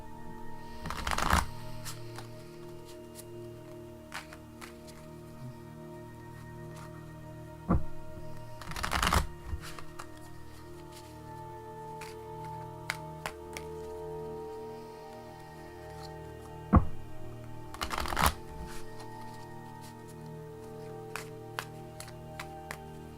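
Tarot cards being shuffled by hand, with three or four brisk riffling bursts spaced several seconds apart and soft taps and slides of the deck between them, close and fairly quiet.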